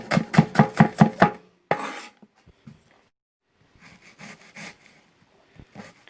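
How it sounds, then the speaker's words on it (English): A knife chops an onion on a cutting board: about seven quick, close, even chops in a row, one firmer cut after a short pause, then softer scattered taps and scraping. Nobody speaks. "keep your thumb behind, and then just slowly chop"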